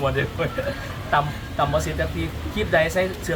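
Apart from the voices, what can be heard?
None of the usual background noises is heard.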